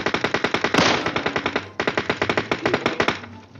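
Rapid automatic gunfire in PUBG Mobile, loud crisp bursts of evenly spaced shots with a short pause in the middle, then more rounds in a steady rhythm.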